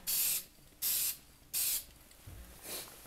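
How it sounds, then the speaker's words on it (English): An M4-style airsoft gun being spray painted from an aerosol can: three loud, sharp hissing bursts, each under half a second, then a softer, shorter puff, with quiet gaps between and no talking. "when you're spray painting stuff, make sure you got something under it so nothing gets spray painted"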